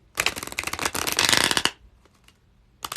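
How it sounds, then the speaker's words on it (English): A deck of tarot cards is riffle-shuffled close up, a dense rapid ripple of card flicks lasting about a second and a half, then a few soft taps and a brief restart of shuffling at the end. "And now we're shuffling for Jude."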